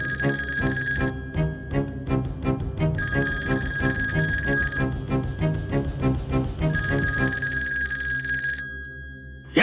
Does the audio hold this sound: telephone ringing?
yes